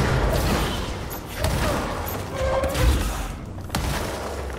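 Bursts of gunfire from the video game Control, a few sharp shots and thuds scattered over a noisy background, with someone talking under the shooting.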